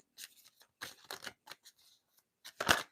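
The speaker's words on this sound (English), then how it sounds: "I need to shuffle a little bit better" Tarot cards being shuffled by hand, heard as several crisp papery riffling bursts separated by short pauses, with a louder final burst near the end and no talk.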